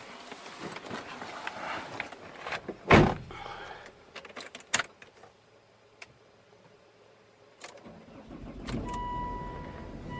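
A Volvo car starts up indoors or close by: scattered clicks and a door-like thud come first, then a sharp loud burst of the starter, and finally a low engine rumble settles in near the end.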